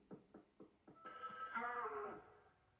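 A landline telephone rings in the Luigi's Mansion 3 video game, several short ring bursts at an even pace, then a longer electronic trill, quiet and alone.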